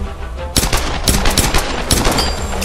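Rapid bursts of gunfire in the Tomb Raider video game: loud, close shots in quick clusters over a noisy battle background, with no voices.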